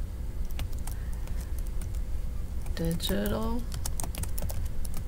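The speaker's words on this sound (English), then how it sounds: "I'm going to go ahead and start typing" Rapid keyboard typing clicks run throughout, with a short spoken word partway through over steady background hum.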